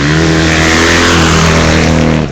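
Rally motorcycles racing around a lake on a reverse special stage at a pond, one bike roaring loudly and close with a strong rising engine drone for a couple of seconds, no talk.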